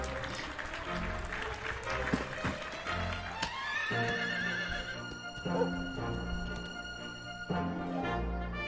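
Horse neighing in the video game Dragon Quest XI S, a whinny mixed with clip-clop hoofbeats over game music, fairly loud and continuous.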